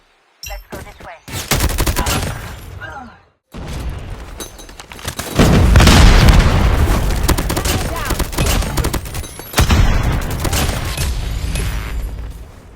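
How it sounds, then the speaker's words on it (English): Call of Duty Mobile match with dense bursts of automatic gunfire and loud booming bomb explosions, rolling continuously with a brief lull near the start, close and loud throughout. "Enemy has dropped a bomb."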